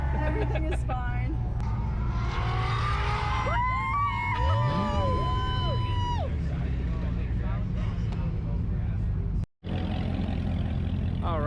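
Cars on a drag-strip parade lap make engine noise around the listener, with some passing by and a few rising revs, under continuous talking, and a brief dropout near the end.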